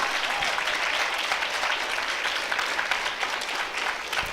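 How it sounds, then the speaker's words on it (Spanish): A church congregation applauds steadily for several seconds. The clapping is dense and even and carries through a reverberant sanctuary, with no other sound on top of it. "Alguien aplauda al Señor."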